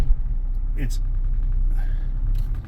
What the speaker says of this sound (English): I haven't touched the gas and I'm going 10 miles an hour in reverse